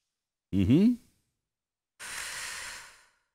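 A short voiced inhale-sigh during a neck exercise, then after a pause a long, steady breathy exhale, close and quiet with nothing else around.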